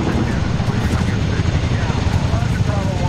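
Dense, loud helicopter rotor and engine roar in the video game Medal of Honor 2010, continuous and close amid battle noise, with voices shouting over it.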